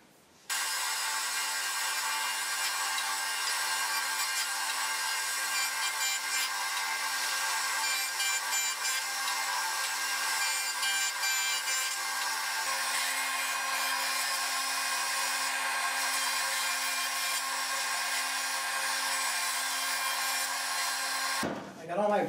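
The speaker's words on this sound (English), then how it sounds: "I got all my boards here cleaned up on the jointer planer to remove the excess epoxy" Jointer planer flattening epoxy-glued laminated wood boards, a steady, continuous whirring hum with a constant cutting roar for about twenty seconds, starting and stopping abruptly, no talking.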